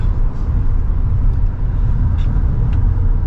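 Steady low road rumble and engine drone from a Lexus NX 350 Premium cruising at speed, continuous and even with faint tyre and wind hiss, no talking.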